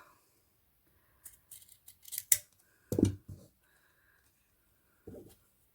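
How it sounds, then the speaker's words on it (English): Scissors cut ribbon for a hair bow in a few short, close snips and crisp scrapes separated by quiet gaps, with a brief bit of faint talk. "we're just going to cut this side down a little bit so the tails are even"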